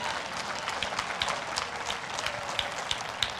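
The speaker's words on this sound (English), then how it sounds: "Give the Lord a clap offering." A church congregation claps in praise during a sermon, a quick busy patter of many hands with scattered sharper claps, fairly faint and steady throughout.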